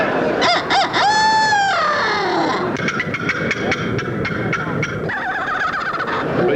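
Contestants mimic wild turkey yelps, cackles and purrs with their voices and calls at the Grand National Wild Turkey Calling Championships in Louisville, Kentucky; loud, close, rapid bursts of clucks and gobble-like cries.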